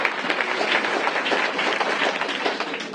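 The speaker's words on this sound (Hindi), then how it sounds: "एक बार जोरदार ताली बजाएंगे" Steady audience applause for Devpriya at a motivational talk, a dense even patter of many hands clapping at moderate volume for a few seconds.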